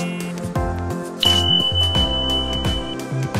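A bright notification-style ding rings out once and holds a sustained tone over a bouncy musical backing track, fairly loud with no speech.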